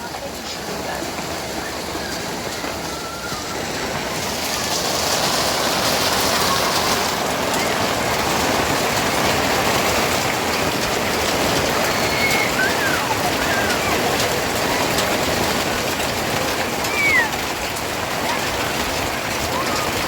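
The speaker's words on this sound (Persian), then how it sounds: "این بارون خیلی خوبه" Steady rain falls outdoors in cold weather, a dense, even patter that thickens after the first few seconds, with faint bird calls scattered through it.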